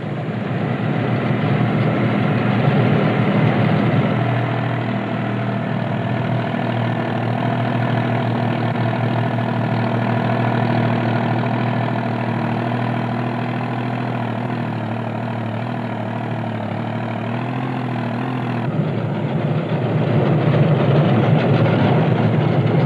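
A Standen sugar beet lifter loader working behind a tractor in the Fens, heard as a steady droning engine hum with mechanical whirring and rattling that holds level loudness throughout, with no voices.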